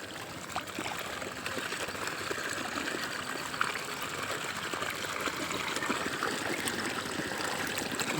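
Irrigation water flowing into a farm field, a continuous soft gush and trickle of running water, fairly faint and steady with no break, heard alone outdoors.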